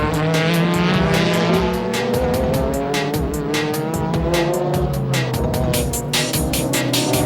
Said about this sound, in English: the Motul Z spins out of control on the corner as it contacts a Denso Supra